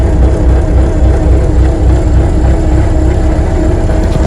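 A diesel engine in an Alaskan off-grid shop idles steadily after a warm start with no glow plug needed, a constant low rumble close by, no talk.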